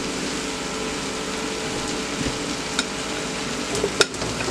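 Potatoes fry and get tossed in a pan with seasoning for a steak-and-potatoes meal, giving a steady close sizzle with a few scraping knocks of the turn near the end.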